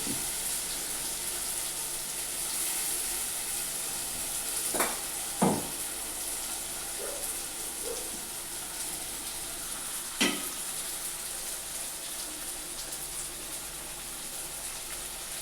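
Masala for a chicken curry sizzles and fries steadily in a pan, a continuous hiss with a few sharp scraping or clinking spikes scattered through it, close and fairly quiet, with no talking.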